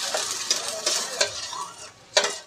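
Onion, garlic, ginger and cumin sizzling in hot oil in a kadai, a steady crackling fry broken by several sharp scrapes of a utensil stirring the pan.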